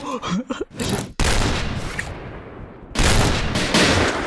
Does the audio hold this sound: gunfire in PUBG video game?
yes